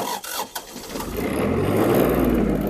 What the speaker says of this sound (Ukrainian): Трактор завівся з півоберту